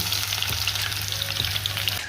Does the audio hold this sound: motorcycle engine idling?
no